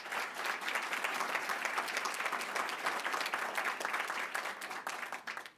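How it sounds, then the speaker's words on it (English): Warm, sustained applause from a civic audience welcoming a Chief Diversity Officer at a policy speech, many hands clapping evenly at moderate distance before tapering off at the end. "Give her a round of applause."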